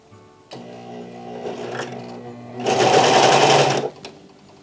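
A Vevor industrial serger sewing machine stitches fabric, a steady mechanical hum that builds into a loud, fast, rattling run for about a second before stopping.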